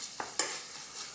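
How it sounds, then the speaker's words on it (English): An egg sizzles steadily in a hot pan while a utensil scrapes and stirs it, giving two quick taps against the pan over a soft, continuous frying hiss. "just going to cook this egg into here for about, again, 60 seconds, stirring all the time"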